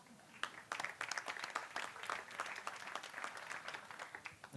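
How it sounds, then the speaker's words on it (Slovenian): Audience applause at a Slovenian award event, steady broadband clapping from a sizable crowd, moderately distant and sustained throughout without speech over it. "Hvala lepa za ta spontan aplavz."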